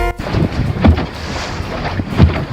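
Wind buffets a dinghy sailing at sea off the Tuscan coast, a loud, gusty rush with low rumbling microphone noise and water sloshing against the hull.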